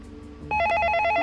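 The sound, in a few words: telephone ringing in Interference: Dead Air video game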